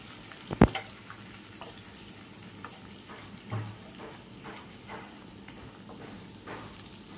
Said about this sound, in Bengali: পেঁয়াজ ভাজা শেষ।